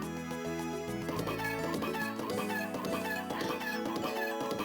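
Constant clucking from video game chickens, busy overlapping clucks layered over game music and noise at moderate level, with no pause throughout.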